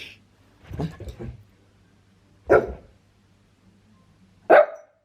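Dog barks in three separate bursts: a quick double or triple woof near the start, then two sharp single barks spaced about two seconds apart, close and clear over a quiet room with a low hum.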